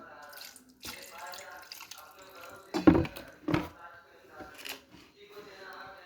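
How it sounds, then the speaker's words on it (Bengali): Water is poured over cut bitter gourd in a kitchen, heard as two short splashing bursts with faint drips, while someone talks quietly around them. "একটু জল দিয়ে দেবো"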